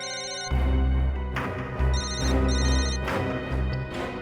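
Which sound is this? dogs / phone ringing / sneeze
phone ringing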